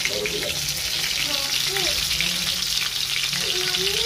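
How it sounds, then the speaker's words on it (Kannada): Cumin seeds and green chillies fry in hot oil with a steady crackling sizzle, close and continuous, while someone speaks over it. "ಈಗ ಎಣ್ಣೆಯೊಳಗೆ ಜೀರಿಗೆ ಹಾಕೊಂಡಾಕತ್ತೀನಿ ರೀ ಜೀರಿಗೆ ನಡೀತದಂತ ಉಪವಾಸ ಮಾಡೋರಿಗೆ ಸೊ ಈಗ ಹಸಿ ಮೆಣಸಿನ್ಕಾಯಿ ಹಾಕೋತೀನಿ"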